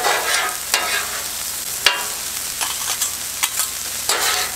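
Fried rice ingredients stir-frying in a pan over maximum heat: a close, steady sizzle with repeated scraping stirs and clatters from a utensil, with no talk.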